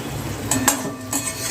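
Crispy potato pakoda is lifted from a pan onto a plate, giving soft scrapes and light clinks of a utensil over a faint lingering sizzle.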